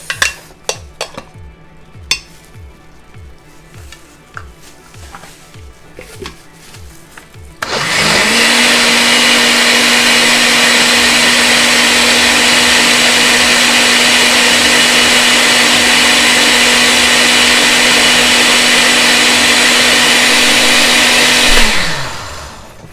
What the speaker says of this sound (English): So I'll blend it again.